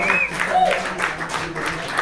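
Audience at a comedy fight club show breaks into applause, a steady wash of clapping lasting a couple of seconds while a voice speaks over it.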